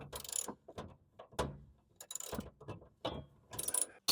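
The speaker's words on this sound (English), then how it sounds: "Okay, I just got one more bolt to tighten" A ratchet tightening the bolts on a tablesaw blade, with repeated bursts of sharp, rapid clicking separated by short pauses, close and loud with no talk.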